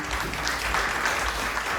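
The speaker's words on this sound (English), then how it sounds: "Give Sam a big round of applause" An audience in Queens gives a brief round of applause for Sam Esposito, a steady wash of clapping without talk.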